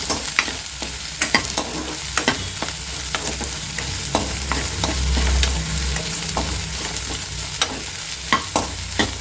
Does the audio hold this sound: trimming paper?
no